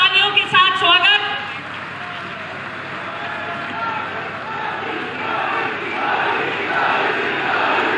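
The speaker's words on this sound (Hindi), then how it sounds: "जोरदार तालियों के साथ स्वागत" A rally crowd applauds and cheers loudly to welcome the Uttar Pradesh chief minister, Yogi Adityanath, at a public address; the broad crowd noise swells and continues steadily after a brief burst of voices at the start.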